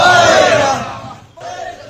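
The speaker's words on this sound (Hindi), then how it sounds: "प्रदर्शनकारियों की भीड़ मुजफ्फराबाद की तरफ बढ़ रही थी" A large crowd of protesters marching toward Muzaffarabad raises loud, massed chanting and shouting, with a brief dip before the roar of voices resumes.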